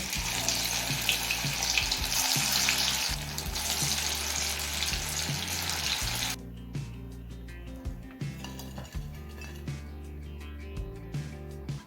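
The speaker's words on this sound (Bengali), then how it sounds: "এবার একই রকমভাবে সমস্ত বড়াগুলো ভেজে নেব" Loud, dense sizzling of drumstick-leaf fritters frying in oil for several seconds, then it abruptly drops to quieter crackles and occasional soft clinks.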